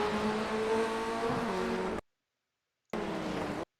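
Race cars in a sim racing video game whine past at speed, engine tones sweeping and shifting, cutting out abruptly into silence before another short burst of engine noise.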